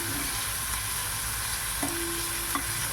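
Finely chopped onion and garlic frying in a pan toward golden brown give a continuous even sizzle, with a couple of faint clicks, and no talking.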